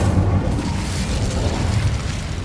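An Incendio fire spell blast in Hogwarts Legacy, a dense low roaring rumble like a sustained burst of flame, loud and close, holding steady for a couple of seconds.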